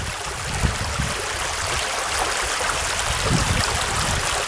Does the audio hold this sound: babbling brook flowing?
yes